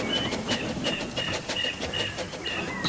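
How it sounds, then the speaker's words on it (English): A steam tank engine chuffing as it moves off, with rhythmic puffs of steam and hisses repeating about twice a second over a clattering rail rumble. "Once he got his steam up, Toby chuffed away to the shed at the big station."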